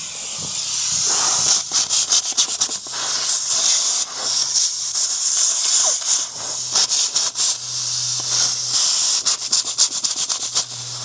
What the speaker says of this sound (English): She's got a wild air leak going on.